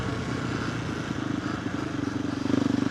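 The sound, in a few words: KTM 390 Adventure R motorcycle with Norifumi Whoops exhaust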